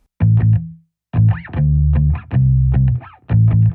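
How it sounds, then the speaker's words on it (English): Short, punchy bass guitar phrases through a Guitar Rig vintage bass amp preset with a different cabinet, slightly gritty, warm tone, played in bursts with brief pauses between notes, close and loud. "We have a vintage bass preset right here in Guitar Rig that I've just tweaked with a different cabinet."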